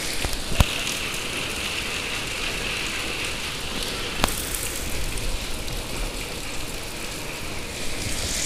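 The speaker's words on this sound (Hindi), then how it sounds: "दोपहर के 3:30 बजे बारिश हो रहा है, बारिश हो रहा है, देख सकते हो बारिश हो रहा है।" Afternoon rain falls steadily in a continuous soft hiss, with a couple of sharp knocks early on and no talking.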